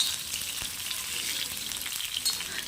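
Green chillies frying in a pan on high flame, giving a steady, close crackling sizzle with a light scrape partway through.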